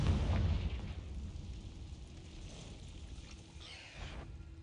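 A Confringo fire-blast spell explodes in the Hogwarts Legacy video game inside a cave, opening with a loud, deep burst that fades into a rumbling tail, then a brief whooshing flare near the end.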